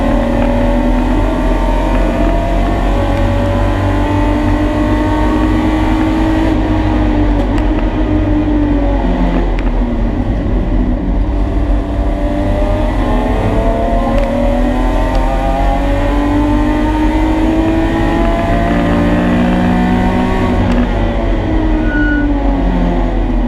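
A BMW E46 race car engine at racing speed in Riga, a loud continuous drone with rising and falling pitch as it shifts through the gears, heard alone without voices.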